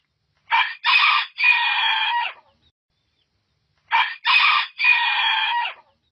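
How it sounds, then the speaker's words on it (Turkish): A rooster crows twice, each a loud, close, multi-part cock-a-doodle-doo separated by a few seconds of silence. "Ötüşünden Ekmelettin ismine benzer bir ses çıkan horoz internette tıklanma rekorları kırmaya başladı"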